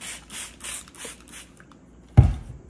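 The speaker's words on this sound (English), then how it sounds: "I'm gonna spritz them" Seeds pressed into seed starter mix get several soft, rhythmic hissing spritzes from a spray bottle, close up, followed by a dull thump as a lid or cover is closed.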